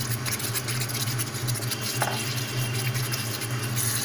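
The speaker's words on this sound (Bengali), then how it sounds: "এবার আমি এর মধ্যে ডিমগুলো ছেড়ে দিলাম" Eggs dropped into a pan of hot oil for Bengali egg malai curry, giving a steady sizzle and frying crackle with faint scraping of a utensil, close and continuous with no talk.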